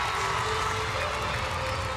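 A large crowd at a Suncorp Super Netball match between Vixens and Swifts roars in a steady, dense wash of cheering and noise, with a commentator talking over it.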